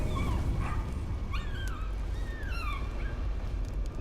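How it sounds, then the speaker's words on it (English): Dogs in the horror video game Layers of Fear bark, yip and whimper over a low, droning ambient rumble, with high whining cries rising and falling in short bursts, fairly close. "Or is he just hearing dogs barking at the portrait?"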